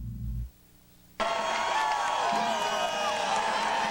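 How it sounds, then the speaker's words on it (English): Pacific Lutheran football fans cheer from the stands at a 1993 national championship game against Westminster, a broad steady crowd roar that swells in suddenly after a brief quiet gap and carries on for several seconds. "They have reason to cheer, Pacific Lutheran fans. Cheering their Lutes."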